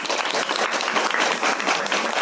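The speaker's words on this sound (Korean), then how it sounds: "큰 박수로 모시겠습니다." An audience at a psychology lecture greets Professor Hwang Sang-min with dense, even applause of many hands clapping together, loud and sustained for the whole moment.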